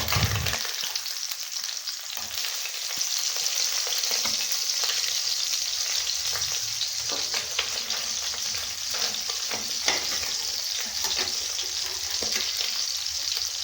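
Small chuna fish frying in hot oil, a steady close bubbling sizzle with scattered crackles and pops and occasional stirring taps, continuous throughout with no talk.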